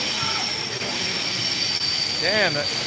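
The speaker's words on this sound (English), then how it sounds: "Just a train passing through." Train wheels squeal loudly as a train passes close by, a steady rumbling roar with a sharp rising and falling screech near the end.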